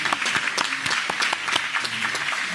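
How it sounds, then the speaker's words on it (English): A congregation at a Sabbath service claps for a missionary team, a dense, steady round of applause filling the room, close and fairly loud, with a few sharper individual claps standing out. "Let's give them another round of applause."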